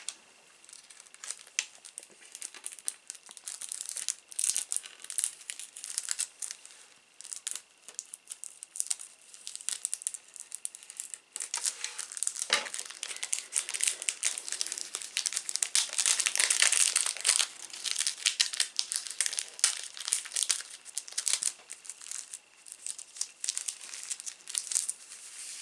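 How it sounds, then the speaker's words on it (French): Crinkling plastic packaging being torn open and handled while a model train collection magazine is unpacked, with bursts of crackling and tearing that swell louder midway, no voices. "Je vais démarrer tout de suite le déballage par déballer le fascicule de la"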